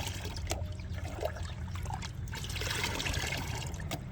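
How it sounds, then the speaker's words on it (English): Water pours and trickles steadily, diluting concentrated plant nutrient solution for a garden, a continuous close splashing dribble with a few small clinks throughout. "I took the 1 liter of concentrated solution and mixed it with 10 liters of water"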